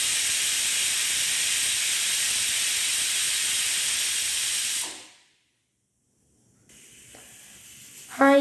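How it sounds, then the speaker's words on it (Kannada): A pressure cooker on the stove lets out a loud, steady steam hiss for about five seconds, then cuts off abruptly, leaving near silence before faint kitchen clatter returns. "ಈಗ ವಿಷಲ್ ಹೊಡಿತಿದೆ. 2 ವಿಷಲ್ ಆಯಿತು."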